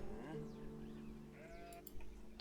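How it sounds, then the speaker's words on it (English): Sheep bleat in the Age of Empires video game, several drawn-out wavering calls overlapping one another, fairly clear against a quiet steady game background with no talk. "Sheep. Sheep are nice and calm."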